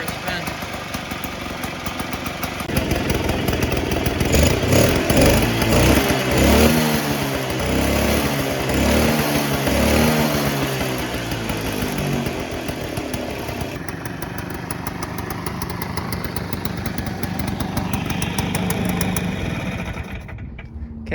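A vintage 1958 Allstate Vespa scooter engine runs steadily after a cold start, a loud, continuous small-engine putter close by that holds an even idle throughout with little change in pitch.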